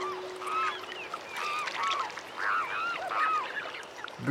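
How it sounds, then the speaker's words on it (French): Repeated honking, nasal swan calls in short bursts over steady background noise, calling several times at moderate distance along the Loire river. "Le cygne est le plus lourd oiseau volant d'Europe."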